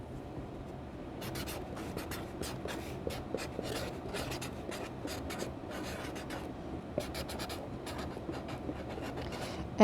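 A pen or marker writing a name on the bottom of a clay bowl, with steady scratchy strokes in quick bursts, close and fairly loud, alone without talk.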